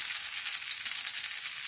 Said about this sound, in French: on va laisser cuire sur une première face avant de retourner notre galette